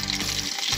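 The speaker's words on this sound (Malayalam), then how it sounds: "ചൂടായിട്ടുണ്ട് കടുകിടാം കടുക് പൊട്ടി" Mustard seeds crackling and spitting in hot oil, a close, busy sizzle with quick pops that briefly thins out before the frying picks up again, for a shallot tamarind curry tempering.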